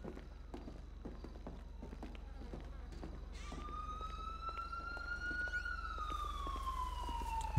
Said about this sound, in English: I hear sirens nearby.